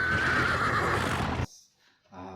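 A loud horse whinny with a wavering pitch rings out for about a second and a half. It then cuts off abruptly into near silence, and a faint low voice begins at the end.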